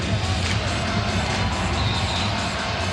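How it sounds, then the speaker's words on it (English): Arena crowd at a Lakers home game against the Knicks, a steady dense roar of cheering and noise filling the basketball arena throughout, loud and sustained without clear individual voices. "Yeah, the crowd really responding too."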